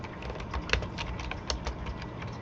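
Rapid typing on a computer keyboard while entering data in a spreadsheet, with a steady patter of close, crisp keystrokes and a few heavier taps mixed in.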